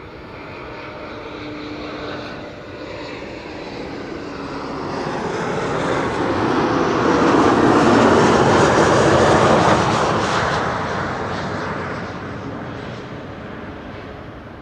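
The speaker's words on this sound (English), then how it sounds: "This is KLM flight 978, arriving from London City, and Embraer 190." A KLM Embraer 190 landing at Schiphol after arriving from London City gives a jet roar that rises gradually, peaks loudly past the midpoint and then recedes, with no one speaking.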